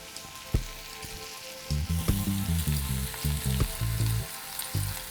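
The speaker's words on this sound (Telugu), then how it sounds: "ఇప్పుడు మనం ములక్కాయ గుజ్జును దీంట్లో వేసుకుందాం." Drumstick pulp tipped into a pan of sizzling fried onions, an initial thump followed by steady, crackling frying with a bubbling, pulsing sizzle that swells after the addition and continues to the end.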